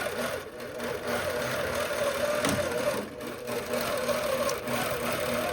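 APQS longarm quilting machine stitching a row across a quilt, a steady mechanical hum with a faint rhythmic whirring that continues evenly throughout, no talking.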